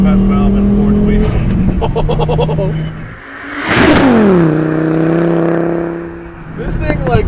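Modified Volvo S60 T5 fitted with a forged compressor bypass valve and forged wastegate: loud, close engine revving with a sharp whooshing release of boost in the middle, then the engine settles back into a steady drone.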